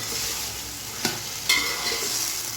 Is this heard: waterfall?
no